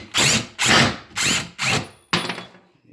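A power drill backs screws out of a cabinet in short trigger bursts, five loud whirring pulses with brief pauses between, the last one choppier and trailing off.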